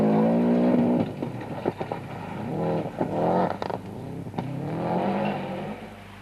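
A much-modified Subaru rally car on an RAC Rally stage roars nearby, its engine rising and falling through gear changes and lifts, with brief pops and crackles between loud revving pulls.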